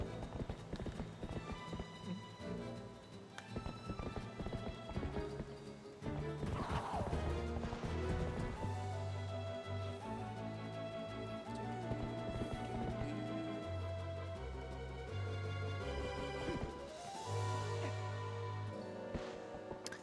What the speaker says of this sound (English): we're gonna trigger our horse to be here now